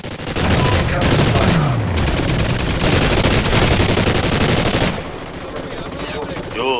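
Dense automatic and rapid gunfire from Call of Duty Ghosts, loud and close, firing in sustained bursts for several seconds before easing into a lighter, sparser stretch.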